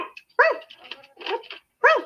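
A person imitates a dog barking, giving a few high yappy woofs with whimpering in between, loud and close, no real dog heard.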